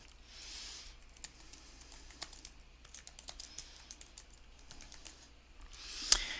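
Someone types a template name on a computer keyboard: soft, quiet key clicks in an irregular stream, with a slightly louder tap near the end and no voices.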